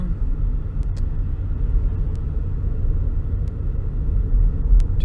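Inside a car driving through a downtown area, a loud, steady low engine and road rumble drones throughout with no voices.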